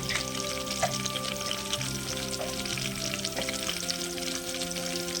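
Curry leaves crackle and fry in hot oil in a village-style kitchen, a steady close sizzle with scattered sharp pops throughout, no talking.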